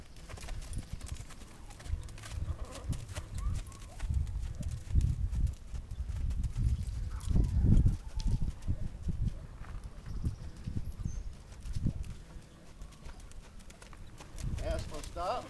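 A horse being trotted during bit training with a shank bit, hooves clip-clopping in a steady rhythm at close range over low background noise, with someone talking at moments.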